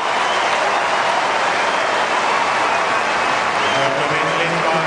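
Crowd of Serb fans cheering a Djokovic service break during a tennis final between Djokovic and Federer, a steady dense roar of cheers and applause filling the whole stretch at even loudness.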